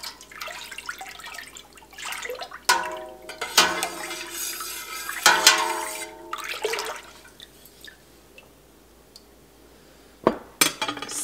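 Milk being stirred in a cheesemaking pot after calcium chloride solution is added, heard as irregular metallic clinks and sloshing scrapes of the spoon against the pot, close and fairly quiet, with no talk.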